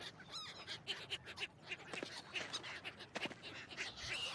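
Game-world waterfowl from Forest Ranger Simulator, a run of honking, quacking calls repeating at a steady pace over a busy outdoor ambience, moderately loud and somewhat distant, with no voices.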